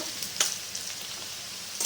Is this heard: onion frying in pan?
yes